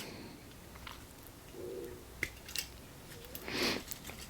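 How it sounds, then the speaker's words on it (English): A brand-new sprue cutter snips through plastic model-kit sprue in a few short, sharp clicks, close up and quiet, with no talking. "So I'll cut this piece of sprue."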